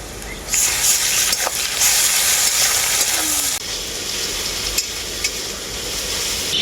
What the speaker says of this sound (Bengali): আদা রসুনটাকে আমি খুব ভালো করে ভেজে নিয়েছি